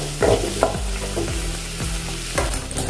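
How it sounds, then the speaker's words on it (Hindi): A spoonful of red chilli powder stirred into masala frying on low heat, a continuous soft sizzle with a spoon scraping the pan at a slow, regular rhythm, close up and without talk. "लाल मिर्च पाउडर डालेंगे एक चम्मच और मिक्स कर लेंगे।"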